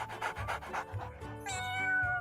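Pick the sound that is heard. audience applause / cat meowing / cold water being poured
cat meowing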